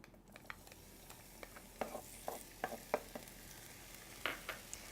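Fresh minced garlic frying in olive oil in a pan, a quiet, faint sizzle broken by scattered crisp pops and spatula taps spread across the whole stretch.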